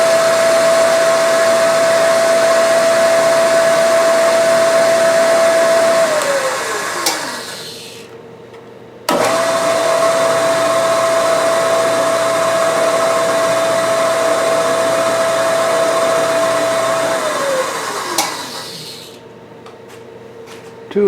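A power tool taps two holes into a metal fixture, each pass a loud, steady motor whine that winds down before a short pause, repeated twice.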